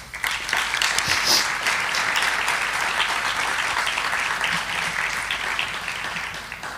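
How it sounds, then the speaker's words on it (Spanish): Audience at a Latin American peace research congress inauguration ceremony gives sustained loud applause, a thick continuous roar of many hands clapping for several seconds without pause. "Un fuerte aplauso para ellas y ellos."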